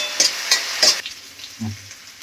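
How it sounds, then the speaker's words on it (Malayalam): A mushroom mixture stirred as it fries in a pan until browned, Kerala village-style cooking: three quick scraping strokes with a sizzle, then a softer low clunk, close by with no talk. "മൂത്ത് വരുന്നത് വരെ ഒന്ന് നന്നായിട്ട് ഇളക്കണം"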